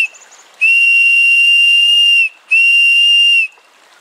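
Pea-less side of a survival whistle blown in two loud, shrill, steady blasts, the first long and the second shorter, close up with nothing else around.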